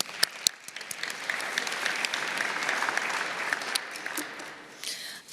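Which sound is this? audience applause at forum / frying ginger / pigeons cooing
audience applause at forum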